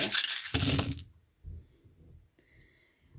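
Dice tumbling and clattering in a short burst during a Capricorn horoscope dice reading, a loud rattle at the start, then quieter low knocks and a faint tone near the end, with no talking.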